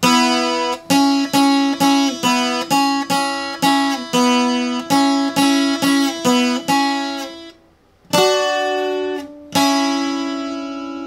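A requinto guitar plays a passage of a song slowly and cleanly, a steady run of about fourteen evenly spaced plucked notes, then a short pause and two longer ringing notes, with no talk.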